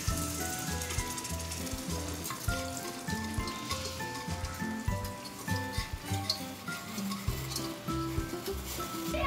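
Mashed cooked vegetables for pav bhaji hit hot spiced oil, giving a continuous low sizzle with scraping and stirring sounds throughout, fairly faint and close.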